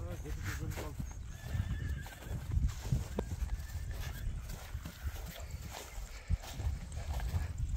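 A young horse being led for sale gives a whinny among steady hoof clip-clops, with people talking nearby throughout.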